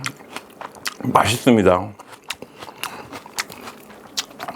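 Someone bites into raw onion and chews it, producing a crisp crunch followed by moist, crackly chewing close to the mic, with a brief spoken remark in the middle.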